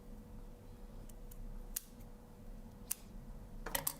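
Scissors snip at the corners of coat fabric while a semi-coat's bottom edge is being finished: a few sharp, isolated clicks spaced apart, then a quick cluster of snips at the end, near and fairly quiet over a soft room hum.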